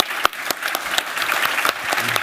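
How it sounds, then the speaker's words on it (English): Conference crowd at Codegarden 2022 gives the speakers a round of applause, steady full clapping with a few sharp claps standing out near the front. "Big long round of applause for our speakers today"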